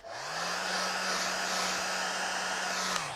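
An electric hair dryer blows on a painting of a bridge, a loud steady whirring roar that spins up, holds evenly for about three seconds, then winds down, with no speech.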